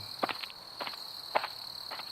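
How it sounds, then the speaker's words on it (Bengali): Footsteps on an empty railway platform at night, a few soft, evenly spaced steps, faint against steady insect chirping. "নিজের পায়ের শব্দই যেন"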